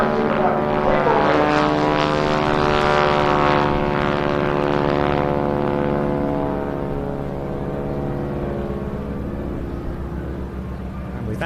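A wing-walking propeller biplane display at an air festival roars past on its final pass, a loud steady engine and prop drone that swells, then slowly fades as it moves away, with no voices over it.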